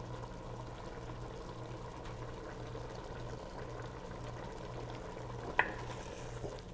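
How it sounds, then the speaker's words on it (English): A pot of thick tomato sauce bubbles and simmers steadily, soft and close, with a single sharp clink near the end. "Boiling down."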